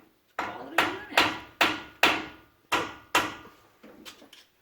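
A hammer strikes an '86 Ranger truck to break rust loose, landing seven loud, evenly spaced close blows followed by a couple of lighter taps.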